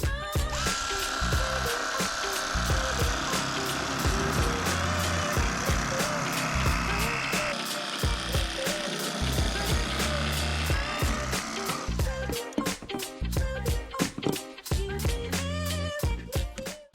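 A KastKing electric fillet knife buzzes steadily while slicing the skin off a walleye fillet, a continuous close motor whine with rhythmic pulsing as the blade works, loud throughout with no talking.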